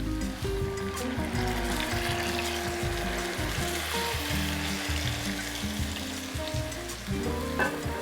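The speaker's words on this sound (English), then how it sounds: "Let the alcohol simmer for about 2 minutes or so. Now we can add in about 250 milliliters of beef stock." Beef stock simmering and bubbling in a pan after deglazing with alcohol, a loud continuous sizzle and liquid burble close up, with no speech.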